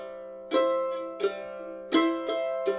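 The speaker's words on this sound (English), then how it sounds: "example 1, don't forget, tab downloadable below if you want to have a look, is adding an upstroke after the second beat" Mandolin bass-strum accompaniment pattern with an added upstroke on the and of beat two, played at moderate volume: five sharp strums in a steady rhythm with ringing harmonics between them and no talking.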